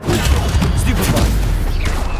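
Dense, crackling bursts of spell combat from Hogwarts Legacy as a Stupefy stun spell is cast, loud and continuous with thuds and booms layered over the fight noise.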